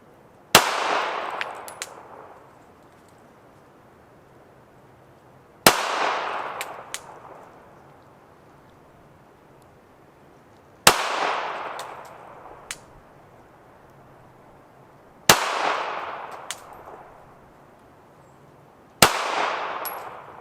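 Five slow, evenly spaced pistol shots ring out while a Trijicon RMR red-dot sight is zeroed, each a sharp loud crack followed by a long ringing decay before the next.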